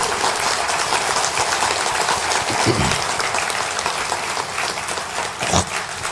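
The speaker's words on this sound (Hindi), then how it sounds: "थोड़ा सा तालियां जोर से मार सकते हैं हमारे अस्पताल में काम करने वालों के लिए" A large audience at a railway union general meeting claps loudly and continuously in honour of hospital workers, a dense steady roar of applause with a few louder swells.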